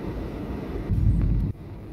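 An airplane arriving over Calgary, Canada, in winter before sunrise, heard as a low muffled cabin rumble that swells louder for about half a second midway, then drops back to a steady drone.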